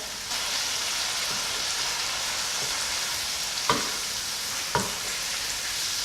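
Steady, loud sizzling of chopped tomatoes frying in a hot pan, with a couple of sharp clicks from the utensil.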